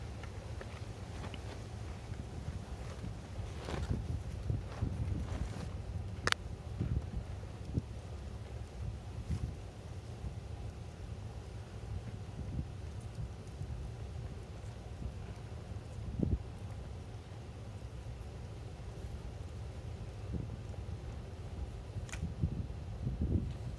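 Strong wind sweeps through a mountain campsite at Man Cheung Po, a continuous low buffeting roar with gusty swells and scattered knocks over about twenty-four seconds.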